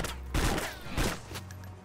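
Gunfire in the survival video game DayZ: two loud, close shots with broadband bursts about half a second apart, followed by a fainter third report and a lingering low rumble.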